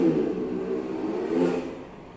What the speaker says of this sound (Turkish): Ne güzel gaz veriyor yiğidim.